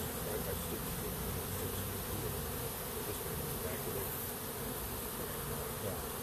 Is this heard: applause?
no